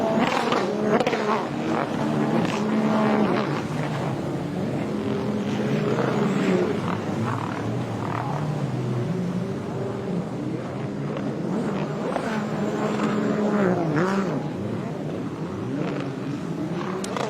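Loud engines roar continuously as Aquabike racing craft pass during a UAE race, with shifting pitch and steady high power throughout, no pauses.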